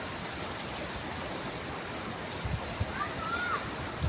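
Water rushes steadily through opened gates into a boating area, a constant broadband flow with a few louder splashes and thumps toward the end.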